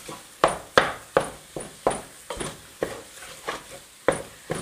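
Pâte à choux dough is stirred in a pan over medium-low heat, with about a dozen rhythmic scraping strokes of the spoon against the pan, each a short, close, evenly spaced swish.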